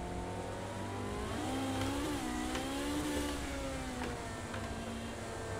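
Race car engine in Project Cars 2 screaming at high revs, pitch sweeping up and dipping repeatedly as it is over-revved, loud and continuous with no talk.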